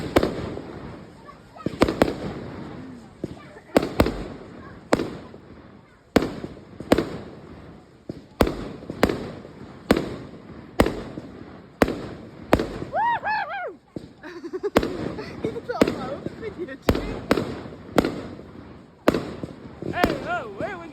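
Bonfire night fireworks in Beverley on the 5th of November, a rapid series of loud, sharp bangs and pops with crackling bursts, some near and some distant, recurring every second or so with excited voices between them.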